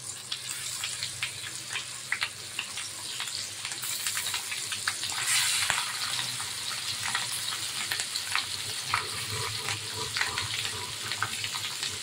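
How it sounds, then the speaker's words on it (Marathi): Gaboli, fish roe, sizzles steadily in a frying pan, a close, continuous hiss and crackle of hot oil with small pops scattered throughout and no talking. "आता मी दाबोळी फ्राय करून घेते"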